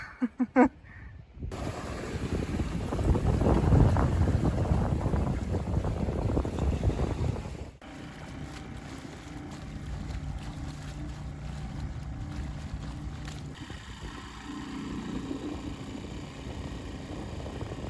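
Sailboat rounding Cape Scott off northern Vancouver Island in rough conditions, heavy wind buffeting and rushing water loud at first, then a steadier, quieter wash of wind and waves around the hull.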